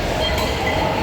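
An MRT Line 3 metro train in Manila produces a steady, loud, close rumble with a continuous rolling roar and no talking.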